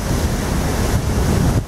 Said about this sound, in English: Winds are about 40 to 50 plus miles an hour with the gusts.